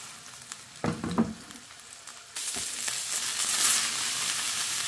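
Smash burger patties fry in a pan, a few scraping and handling sounds giving way to a loud, steady close sizzle that swells and holds.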